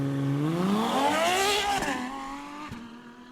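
A Ferrari F12 TDF V12 sports car revs up hard, its engine note climbing in pitch over about two seconds, then easing off and settling to a lower, steady drone. It is loud and close, with no talk.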